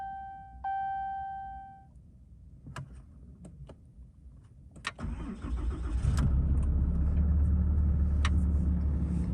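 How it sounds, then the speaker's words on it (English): A few faint clicks and a high tone, then a Ram 3500 pickup engine cranks and catches, settling into a steady loud rumble. "And then we gonna start the truck now this time."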